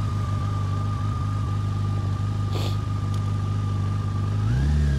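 A car engine runs at a steady low, even hum while the vehicle creeps along slowly, rising slightly in pitch near the end as it speeds up; no one talks.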